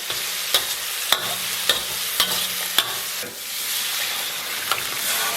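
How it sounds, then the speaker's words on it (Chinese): Seasonings are stir-fried in red chili oil in a wok, giving a close, steady sizzle. Sharp spatula scrapes and clacks against the wok land at a regular rhythm, about one every half second, and no one talks. "再给它简单煸炒一下， 挥发出它的香气。"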